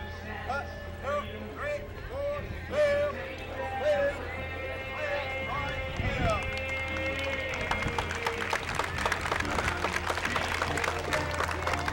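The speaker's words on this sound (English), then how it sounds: "a nice round of applause for the VFW 2115 American Legion Post 50" Parade spectators clap for the VFW Post 2115 and American Legion Post 50 unit; band music plays throughout, and the clapping swells into dense, lively applause over the second half.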